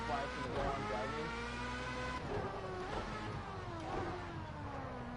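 Car engine in a PS4 driving game with damage turned off, revving and shifting steadily at close range, with a talking voice running over it throughout.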